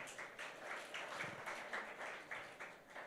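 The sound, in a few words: congregation applauding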